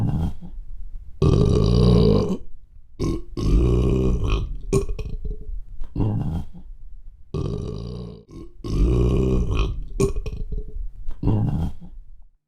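A reader's voice imitating a deep, dark, dirty burp, with long, loud, rumbling eructations repeated in several bursts and short pauses between them.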